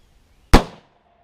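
A single sharp gunshot from a gun fitted with a muzzle brake cracks loudly and close, then fades over a short tail into quiet.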